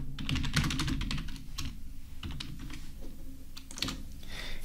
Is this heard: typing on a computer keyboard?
yes